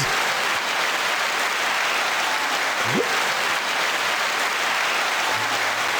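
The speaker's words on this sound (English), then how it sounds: "9-second applause" Steady, dense audience applause fills the space as a continuous wash of clapping at even loudness, with no talking over it.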